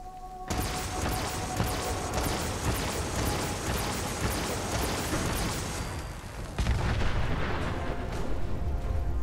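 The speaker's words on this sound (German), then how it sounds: "von allen Seiten wird geschossen, fliegt irgendwas" Dense, continuous gunfire and rolling explosions in the video game Fallout 4, loud and unbroken, with a heavier blast surge near the end.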